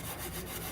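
Chain mail scrubs a dirty cast iron skillet with a steady, harsh, close rubbing rasp that runs without a break through the short stretch.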